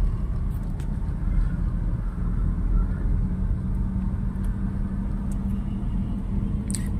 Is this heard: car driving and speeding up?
yes